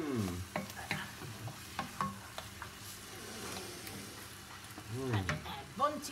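Vegetables for rougail bringelle, an eggplant dish, cooking in a pan, a soft steady sizzle with occasional stirring scrapes, faint and close, with people talking over it.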